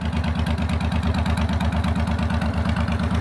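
A 2005 Suzuki Boulevard C90 motorcycle with a 1.5-litre, 88-horsepower engine idles close by, giving a steady, loud, low lumpy pulse with an even rhythm and no other sound.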